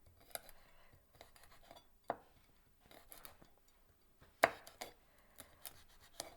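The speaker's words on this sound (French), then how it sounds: "je vais couper aussi un tout petit peu de piment" A knife chops a small chili pepper on a board in a kitchen, giving scattered sharp taps at an irregular pace, some louder than others, close by with faint background noise.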